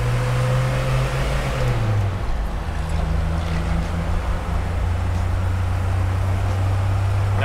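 A Mercedes G-Wagon 240GD diesel pulls through its gears, a loud, steady low engine drone with a tonal shift around the gear change, then holding a constant cruising hum, no voices.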